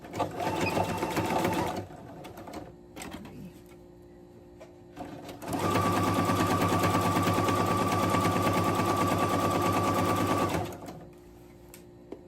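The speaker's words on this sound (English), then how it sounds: "I'm just going to sew 1/8 of an inch in" A sewing machine stitching a shirt seam runs loud and close in two bursts: a short run first, then a longer steady stretch with a rapid needle chatter and a constant motor hum, with quieter pauses between.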